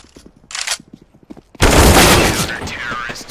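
Sustained burst of automatic gunfire in Counter-Strike, loud and dense after a short stretch of quiet clicks and soft footsteps, continuing to the end with a voice talking over it.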